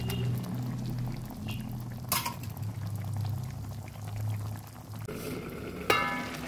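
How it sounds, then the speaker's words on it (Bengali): Tengra fish curry with tomatoes simmers in a covered pot, a soft steady bubbling and low hiss with a couple of brief clinks or lid knocks, faint and close. "এবার ঢেকে কিছুক্ষণের জন্য সেদ্ধ হতে দেব।"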